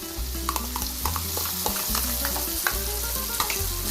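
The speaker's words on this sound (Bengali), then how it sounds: "এর সাথে সাথেই দিয়ে দেবো আদা আর কাঁচা লঙ্কা বাটা" Onion, garlic and cashew paste with ginger and green chili paste frying in a pan as a spoon stirs it, a steady close sizzle broken by repeated sharp scraping knocks of the utensil; no talk.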